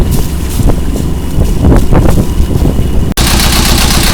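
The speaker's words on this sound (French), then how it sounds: "À fond moteur, 6 nœuds, ça crache bien, nickel." Inboard engine of a Dufour 29 sailboat running at full throttle while under way at about six knots, a loud steady rumble with wind buffeting the microphone, briefly cut off near the end.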